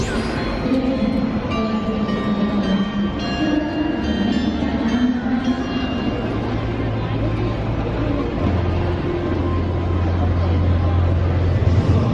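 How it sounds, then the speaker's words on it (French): Trains pass through a busy station in Japan, a steady rumble of rolling cars with low sustained engine tones near the end, surrounded by constant crowd murmur and people talking. "je dois rejoindre Yoshie à la gare"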